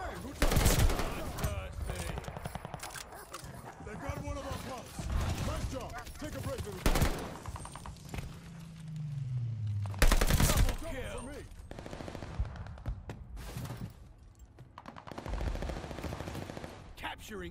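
STG44 assault rifle fire in the video game Call of Duty Vanguard comes in loud, sharp bursts among other gameplay noise, while a player talks over the shooting.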